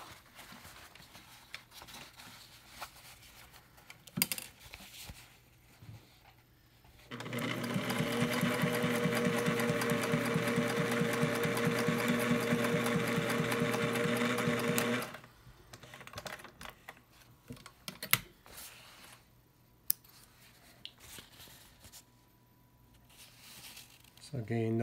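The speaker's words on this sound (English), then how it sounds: "I have a piece of canvas here off an old tent trailer just to show you that it sews through canvas okay." Singer 404 sewing machine stitching through a piece of old tent trailer canvas, a loud, steady mechanical whir with rapid needle chatter for several seconds, framed by quieter handling clicks and bumps before and after.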